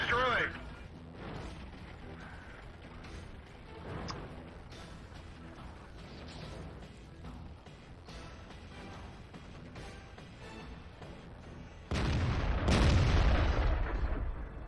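Booming World of Tanks artillery fire and explosions rumble through a busy game soundscape, with a louder, dense blast surge near the end; a voice talks over parts of it.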